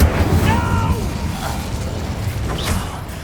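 Incendio fire spell cast in Hogwarts Legacy, a loud burst at the start settling into crackling, creaking mechanical noise with a few faint tonal sweeps, fairly close.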